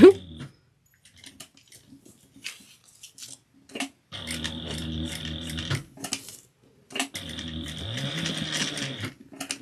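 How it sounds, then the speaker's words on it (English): A sewing machine stitches a garment waistline in two sustained runs of rapid mechanical whirring, separated by brief stops and soft handling noises, close and moderately loud. "we're going to sew the waistline"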